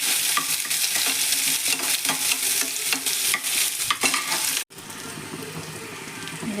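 Small onions frying and stirred in a pan for Tamil kara chutney: steady loud sizzle with repeated scraping stir strokes, then a brief cut to a quieter, even sizzle.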